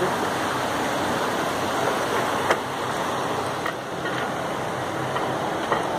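Water rushes steadily through an opened sluice gate at a water treatment channel, a loud, dense, continuous roar close by with a few faint clicks and no talking.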